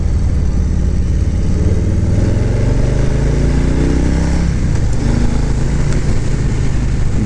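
A 2022 Harley-Davidson Street Bob motorcycle on the move, its V-twin engine a loud, continuous low rumble that rises and falls in pitch with throttle changes, close to the rider and with no talking.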